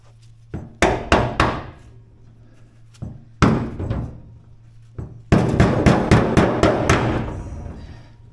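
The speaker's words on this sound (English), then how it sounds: "when we hammer the lock ring in place here" Hammer blows drive a fuel tank lock ring into place during a fuel injection install on a 1980 Camaro: sharp metallic strikes in short bursts, first three, then singles, then a rapid run of about ten hits, close and loud.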